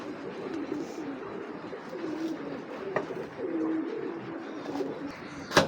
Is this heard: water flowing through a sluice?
no